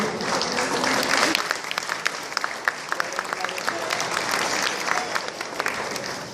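Sustained applause from a gathered audience at an honouring ceremony where guests are felicitated with shawls, dense clapping filling the hall steadily and loudly from start to finish with a brief swell early on.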